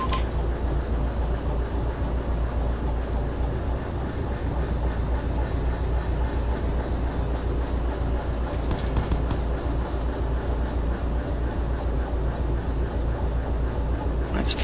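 Locomotive hauling train wagons in the railway game Derail Valley, a continuous low rumble and rolling wheel drone, steady and loud throughout with a few faint metallic clanks.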